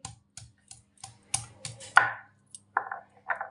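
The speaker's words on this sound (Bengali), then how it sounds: "এই অল্প অল্প করে নোড়াতে থেতো করব হালকা চাপ দিয়ে" Stone pestle pressing and crushing chalta (elephant apple) pieces on a flat stone grinding slab, a series of close, irregular dull thuds and short crunching scrapes with brief pauses between.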